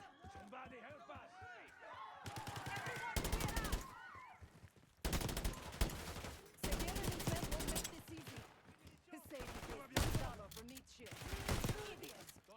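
Bursts of automatic gunfire from a Call of Duty Black Ops 6 campaign mission crack out in several loud volleys, with frantic shouting voices between and under the shots.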